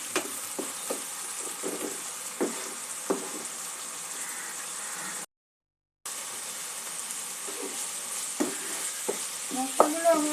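Spices and ingredients for a katla fish rezala fry and are worked around the pan, a quiet sizzle punctuated by soft spatula taps and scrapes, briefly cut to silence midway, with no voices.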